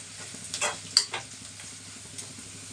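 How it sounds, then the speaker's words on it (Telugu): Okra (lady's finger) fries in a pan with a steady, quiet sizzle, broken by a few sharp scraping and clinking stirs near the start. "బెండకాయలు వేసుకున్నాను"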